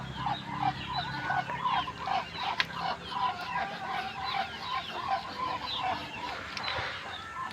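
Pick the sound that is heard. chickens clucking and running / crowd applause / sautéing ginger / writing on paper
chickens clucking and running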